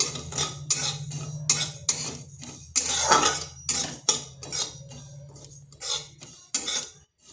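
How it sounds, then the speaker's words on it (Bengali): A metal spoon stirs poppy seeds, white and black mustard seeds in a dry pan, scraping and clinking in repeated strokes at close range with short pauses between them. "দিয়ে দিচ্ছি এক চামচ পোস্ত এগুলো হালকা একটু নেড়ে নিচ্ছি"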